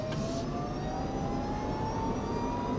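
A Smart electric drive car whines from its motor while cruising, a thin rising tone above steady road and cabin rumble, continuous and moderately loud.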